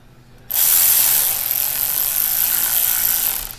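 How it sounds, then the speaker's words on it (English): An electric ratchet runs on a bolt during a water pump and thermostat replacement on a 2008 BMW 335, starting abruptly as a loud, steady whir that holds close and alone for about three seconds. "You can use this electrical ratchet."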